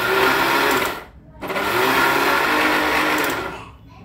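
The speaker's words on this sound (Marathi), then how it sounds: "पुन्हा मिक्सरच्या भांड्यामध्ये घालून मिक्सरला फिरवून घ्यायचं आहे" A kitchen mixer grinder blends jaggery and peanuts, running as a loud steady whir that stops briefly after about a second, resumes, then cuts off near the end.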